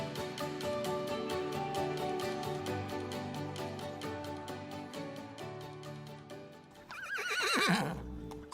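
Horses on a ranch near Calgary, with a loud, shrill whinny rising and falling near the end over a steady rhythmic backdrop of music-like pulses, close and prominent.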